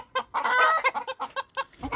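Fayoumi chickens in a coop holding four hens and a rooster cluck in quick, choppy bursts, close and loud, with short clucks tumbling one after another and no talking.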